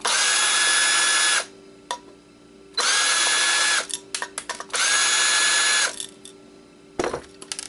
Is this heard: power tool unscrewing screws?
yes